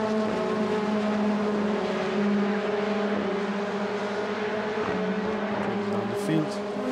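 Formula Renault 2.0 race cars howling past on a circuit during a race, a steady high-revving engine whine with shifting pitch from several cars in close succession, loud and continuous throughout.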